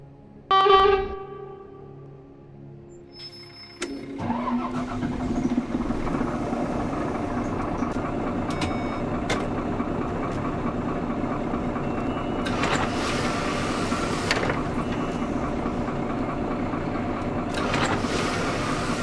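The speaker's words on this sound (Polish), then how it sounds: "dźwięki są dobrze dobrane do modelów autobusów i brzmią po prostu dobrze" A short tonal chime, then a heavy bus engine in the bus simulator game SIMT starts and settles into a steady rumbling idle, with occasional bursts of hiss and revving.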